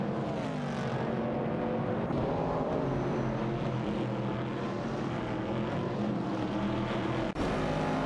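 Racing cars in a video game race, with a Dodge Dart and a Mercury Cougar dueling for fourth place, give a loud, steady engine roar that barely breaks except for one brief cut near the end.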